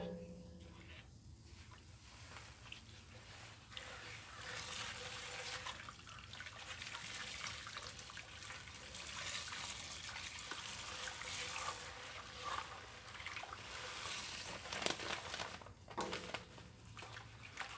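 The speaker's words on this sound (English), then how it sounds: "a little hard to stir with the bag in there" Water pours and trickles into an all-grain mash for an American honey pale ale, with the grain in a brew bag, a faint continuous splashing close by with a few louder sloshes.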